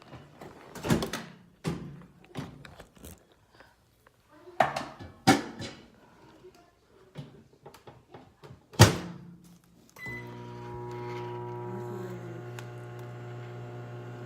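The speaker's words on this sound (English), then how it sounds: "I heat it up in the microwave to start the fermentation process" Several clunks and knocks, like a door shutting and buttons pressed, then a steady electrical hum as a microwave oven starts running.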